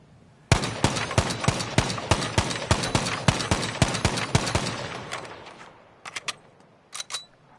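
Rapid bursts of video game gunfire from Battlefield V, a fast string of sharp loud shots with visible recoil pull for about five seconds, then a few isolated short bursts after a pause.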